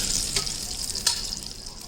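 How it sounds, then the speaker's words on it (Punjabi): Half a kilo of ghee heats in a pan for chickpea panjiri, giving a soft, steady sizzle with a couple of faint clinks, quiet and close. "ਘਿਓ ਨੂੰ ਚੰਗੀ ਤਰ੍ਹਾਂ ਗਰਮ ਕਰਾਂਗੇ"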